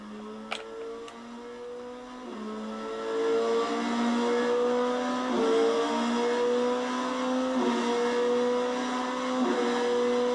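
A Kawasaki Z125 Pro motorcycle fitted with a Power Commander V runs steadily while it is shifted through the gears without the clutch and without letting off the throttle; the engine drone climbs and drops in pitch with each shift, close and continuous.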